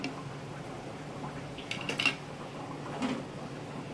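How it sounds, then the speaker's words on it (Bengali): Roasted whole spices crushed in a metal mortar and pestle give a few sharp clinking strikes, faint and close, with quiet pauses between them. "এখন যে ভাজা মশলাটা আমি করে রেখেছিলাম সেটাকে হামানদিস্তায় গুঁড়ো করে নেব"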